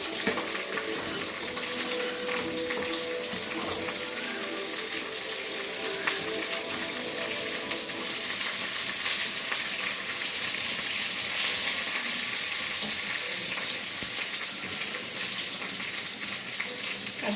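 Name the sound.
mustard seeds, dried chillies and curry leaves spluttering in oil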